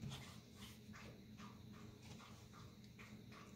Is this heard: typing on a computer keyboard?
no